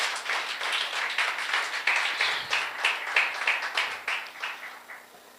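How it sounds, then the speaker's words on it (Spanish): A church congregation claps during a Sunday worship service, with uneven bursts of hand claps rising and falling in a loose rhythm, moderately loud and close, fading toward the end. "Dele un aplauso al Señor con todo su corazón"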